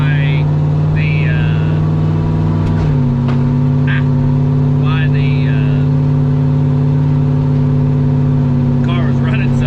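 A turbocharged LS engine in an Oldsmobile Cutlass holds a steady, loud droning run with one sudden upward step in pitch partway through, while someone talks over it.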